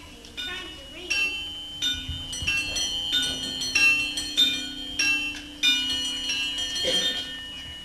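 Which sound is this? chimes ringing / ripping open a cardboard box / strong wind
chimes ringing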